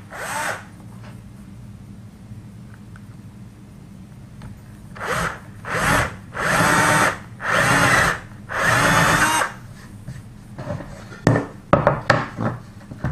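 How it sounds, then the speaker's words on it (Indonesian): Hand power drill boring into old pallet wood, Dutch teak: several steady whining bursts of a few seconds each with short pauses between, close and loud, ending with scattered knocks and scraping. "Mari kita coba bor."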